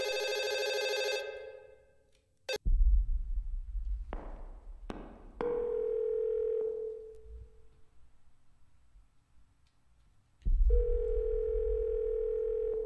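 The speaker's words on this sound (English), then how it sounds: "The phone was ringing." A telephone rings in the horror video game Fatal Midnight: loud, steady electronic ring tones that start, stop and return in bursts, with low thuds and silent gaps between them.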